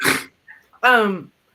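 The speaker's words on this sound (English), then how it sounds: "Okay, that's the dog." A dog lets out a sharp, noisy sneeze-like burst, then after a short pause gives one brief whining bark, close and fairly loud indoors.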